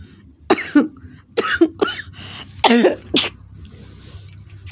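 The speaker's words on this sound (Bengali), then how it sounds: "প্রচণ্ড কাশি হয়েছে" A person with a bad cold coughs several times in close succession, harsh and loud, in a quiet room.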